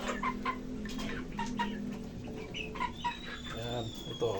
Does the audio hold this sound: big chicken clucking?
yes